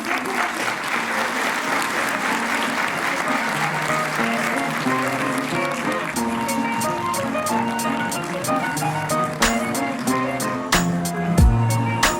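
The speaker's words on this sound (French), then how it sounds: "Alors pour les applaudissements," An audience applauds at an award ceremony honoring people from work-integration programs, a dense, steady clapping crowd sustained for the whole stretch, with a few louder nearby claps near the end.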